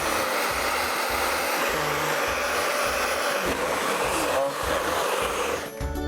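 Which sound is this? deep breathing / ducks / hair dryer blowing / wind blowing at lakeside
hair dryer blowing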